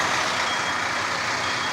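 Feeder trucks reverse toward a paver's hopper on a busy asphalt paving site, and their warning beepers ring out over loud, constant heavy-machinery noise with diesel engines rumbling nearby.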